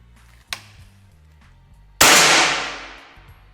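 A faint click comes first, then one sharp, loud crack from a PCP air rifle with a long ringing decay, over a low background hum.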